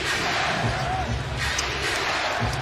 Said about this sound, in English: Raucous crowd here in Milwaukee.